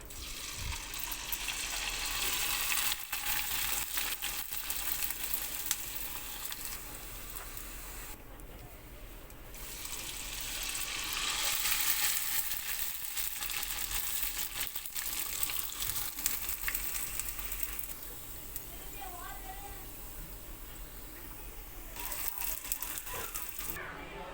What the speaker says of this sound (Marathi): आता कुरवडी तळून घेऊया.